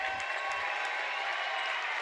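A home crowd at a college men's basketball game applauds a foul call, steady clapping and crowd noise filling the whole moment at an even level.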